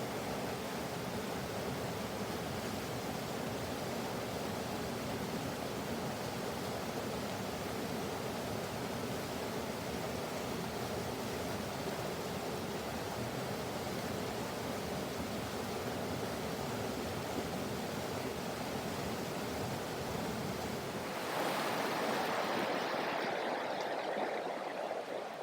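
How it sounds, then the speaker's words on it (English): Steady broadband rushing of water over small rapids on the Cathance River, constant and fairly loud throughout, with a brief shift in tone near the end. "in this part of the river, you can see there's still some little rapids"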